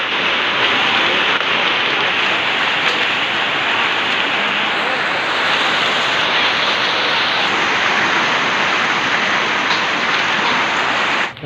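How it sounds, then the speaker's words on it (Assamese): Heavy wind-driven rain mixed with falling hail in a rare hailstorm, a loud, dense, steady roar of drops and ice pellets striking surfaces close by, continuous for the whole stretch with no talk. "ইমান বতাহ আৰু বৰষুণ লগতে বৰফ ইমান বৰফ দিছে"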